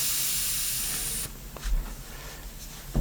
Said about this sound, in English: In order to release the pressure in the Presta valve, you have to actually loosen the valve